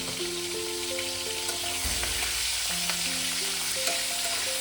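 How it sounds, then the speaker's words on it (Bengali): Hilsa fish head frying in hot oil, a dense, steady sizzle close by, with faint music tones running underneath. "মিনিট 2-3 মাছগুলো মুড়োটাকে ভালো করে ভেজে নিয়েছি।"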